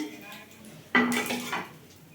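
Fried bitter gourd pieces lifted out of a pan, with utensil scrapes and clinks against the metal pan starting about a second in, then a second clatter; close and moderately loud, no talking.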